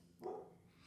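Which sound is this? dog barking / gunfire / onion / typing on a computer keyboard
dog barking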